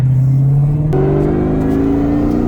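A 2003 Cobra's exhaust, with an X pipe, Bassani 3-inch cat-back, revs steadily with a deep, crisp rumble, the pitch stepping up partway through and holding loud and close.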